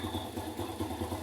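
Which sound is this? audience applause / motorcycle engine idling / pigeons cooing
motorcycle engine idling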